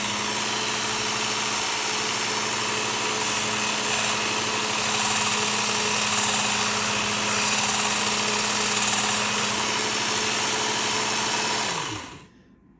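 A Work Sharp powered sharpener grinds a bevel on an Outdoor Edge gutting knife blade. It makes a loud, steady motor whir with a gritty abrasive hiss that runs unbroken for about twelve seconds, then winds down and stops.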